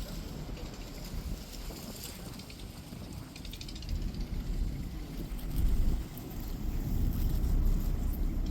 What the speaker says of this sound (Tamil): நல்லா காற்று.